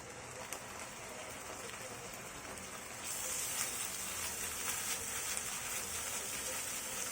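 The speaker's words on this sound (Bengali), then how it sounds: "এখন দিয়ে দিচ্ছি আদা রসুনের পেস্ট" Ginger garlic paste dropped into a pan of fried onions gives a steady, fairly faint hiss of sizzling oil that swells louder partway through and continues alone.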